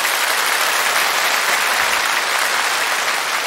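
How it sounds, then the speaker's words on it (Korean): A television song-show studio audience in Korea, welcoming taekwondo guests from America, claps in loud, continuous, even applause that fills the hall without pause. "여러분 큰 박수를 한번 보내주시면 대단히 고맙겠습니다"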